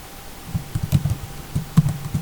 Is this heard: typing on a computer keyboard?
yes